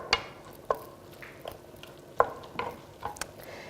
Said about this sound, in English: Just let it get smaller and fine and cook up and stirring it to get the heat around.